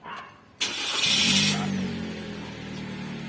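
A Toyota Yaris Ativ is started with its push button: a brief starter whir, then the engine catches with a rising roar and settles into a steady, close idle.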